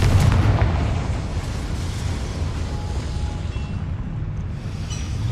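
A Confringo fire spell explodes in Hogwarts Legacy, a loud booming blast with a dense rumbling roar that opens strong and then settles into a sustained low crackling rumble.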